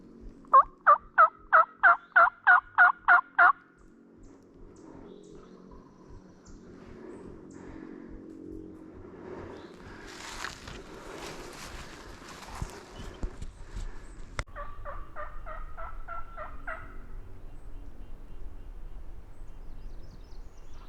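A wild mountain turkey gobbles in a rapid string of loud rattling notes, then gobbles again more faintly later, with footsteps and rustling through brush in between.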